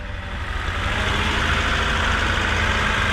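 A 1999 Honda Civic engine runs with a misfire, giving a steady, close, loud idle rumble with a slightly uneven pulse and no voices over it.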